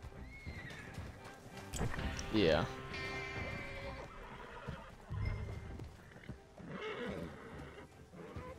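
Horses in the game Dishonored whinny loudly and clip-clop nearby, with a long rising neigh early on and more whinnies later, while someone briefly talks.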